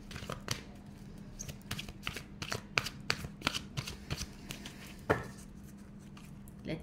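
Tarot cards being shuffled by hand, giving a quick run of crisp close riffles and slaps over a faint low hum.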